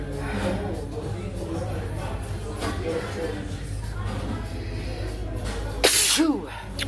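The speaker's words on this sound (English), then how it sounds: "I love sneezing." A single sharp sneeze bursts out near the end over a steady background murmur of voices, loud and close.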